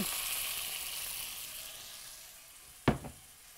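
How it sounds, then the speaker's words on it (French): Sizzling pot of hare with celery and sliced carrot fading into a quieter hiss, then a cup of water poured in, giving a sharp loud splash-burst followed by a smaller second hiss. "je vais ajouter l'équivalent d'une tasse d'eau."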